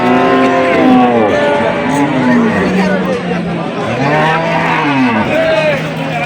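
Several dairy cows and calves, including Sahiwal cattle, moo loudly and repeatedly, long drawn-out lows overlapping one another, over a busy crowd murmur at Ambari cattle market in Dinajpur.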